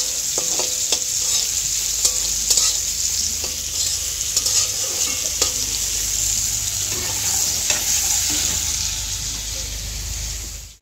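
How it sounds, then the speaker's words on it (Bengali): Bitter gourd sizzling steadily in hot oil in a pan, with a continuous loud frying hiss throughout and occasional sharp clicks of stirring or spatula scrapes. "এখানে করলা ভাজছি"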